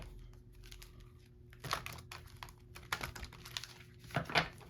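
Tarot cards being drawn and shuffled at close range, with soft papery flicks and a few crisp rustling bursts against a quiet background hum.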